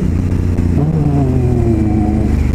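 A 2018 Honda Africa Twin CRF1000L with its stock exhaust revs up, a throaty mid-pitched engine rising in pitch, loud and close, with no talk.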